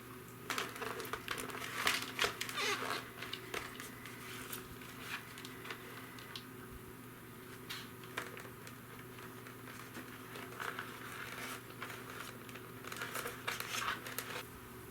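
Electrical tape is torn and pressed onto the padding of a small Simpson Mod Bandit motorcycle helmet: quiet crinkling, short tearing rips and soft tapping, close and faint over a low steady hum.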